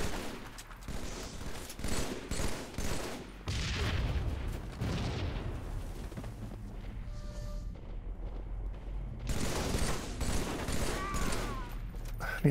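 Rapid spiker gun fire in a Halo-style shooter game, loud and dense bursts over most of the stretch, mixed with explosions and other weapon noise, with players talking over it.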